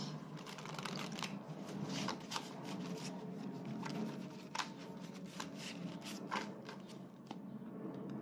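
Tarot cards are shuffled in a quick, crisp riffling and flicking run with soft rapid snaps. The sound is close but faint, with no voice over it.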